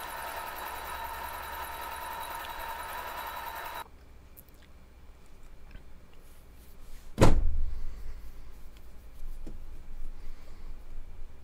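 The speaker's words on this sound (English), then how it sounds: "Face mill's doing a nice job." A face mill cuts metal on a milling machine at around 660 RPM, a steady close machining drone that cuts off after a few seconds. A single heavy thud and quieter shop rumble follow.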